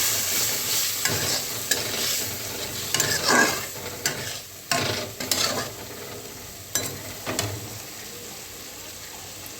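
Spicy loitta (Bombay duck) fish curry with potatoes stirred and frying in a pan: a steady close sizzle under repeated scraping strokes of a spoon against the metal, with no talking.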